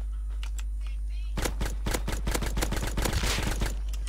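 Rapid bursts of gunfire in the video game Rust: a few sparse shots, then a dense fast volley of sharp cracks, loud and close over a steady low hum.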